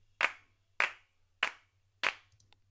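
Four crisp, evenly spaced hand-clap samples soloed in a music mix, each a sharp dry hit with a short tail, roughly 0.6 seconds apart over a faint low hum.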